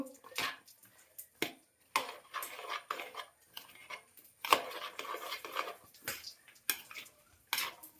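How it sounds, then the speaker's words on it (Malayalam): Salted elephant foot yam pieces stirred in a metal pot, with repeated clattering scrapes and knocks of a spoon against the pot in irregular bursts, close and fairly loud. "ഇളക്കിയിട്ട് അടച്ച് മൂടി വെക്കാം"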